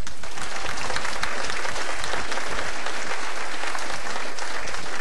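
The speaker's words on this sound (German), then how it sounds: "viel Applaus" Dense, sustained audience applause fills the whole stretch at steady volume, a broad wash of many hands clapping together at a German-language stage show, with no voices rising above it.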